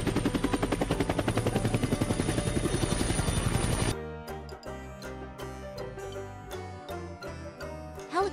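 A helicopter in flight gives a loud, steady, fast rotor chop for about four seconds before it drops off into quieter, irregular mechanical noise.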